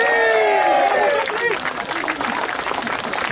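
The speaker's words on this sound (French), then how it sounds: "Applaudissez-vous." A crowd at a patriotic political rally in Nice breaks into applause, building from a voice and tonal shouts into broad, continuous clapping and cheering from many people.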